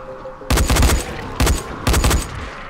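Rifle gunfire in the video game Dying Light, three loud close bursts of rapid automatic shots, each a fraction of a second long, separated by brief pauses.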